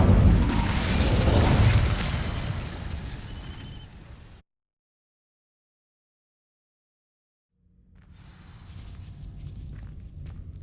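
Incendio fire spell blast in Hogwarts Legacy, a loud roaring burst that decays over about four seconds, then cuts to silence before quieter ambient rumble with faint clinks returns.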